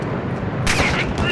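Gunfire in the Modern Warfare 2 campaign, a quick burst of sharp shots over a dense game background, brief and loud.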